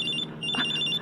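A cellphone rings with a steady repeating electronic tone through the whole moment, close and clear, with a brief louder swell in the middle and no talking over it.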